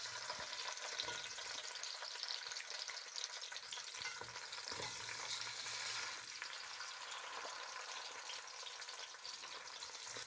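Rabbit pieces sizzle steadily in hot ghee and oil in a pot, a close, continuous crackling fry with occasional stirring.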